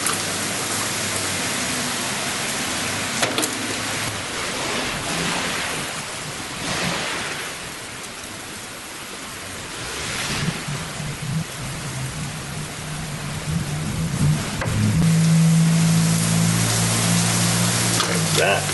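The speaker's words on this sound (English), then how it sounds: "Keep having these pop-up thunderstorms all day" Steady heavy rain from a thunderstorm hisses throughout, with low thunder rumbles rising toward the end, the whole scene a dense, continuous wash of storm noise.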